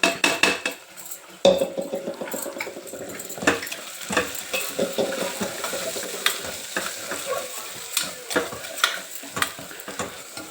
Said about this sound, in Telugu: మసాలా అంతా మంచిగా నూనెలో వేగింది కదా